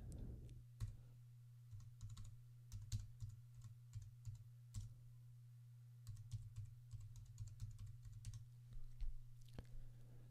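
Quiet typing on a computer keyboard: irregular bursts of light key clicks and taps, some in quick runs and some spaced apart, over a low constant background hum.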